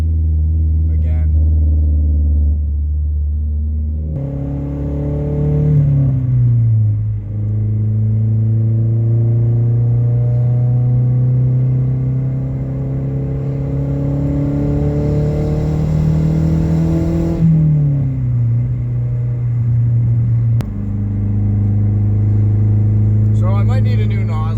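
A Mazdaspeed 3 engine on methanol injection, running rich during a test pull, holds a loud, steady drone that climbs in pitch through the gears with short dips at shifts. It is heard close from inside the car, with talk over parts of it.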